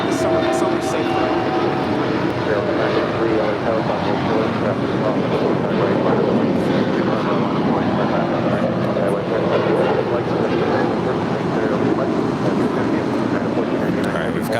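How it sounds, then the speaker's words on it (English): A United Boeing 787-10 Dreamliner arriving from Newark gives a loud, steady rumbling engine roar with wind buffeting on the microphone, continuous and close throughout. "1499 coming in from Newark Liberty. It's a 787-10 Dreamliner."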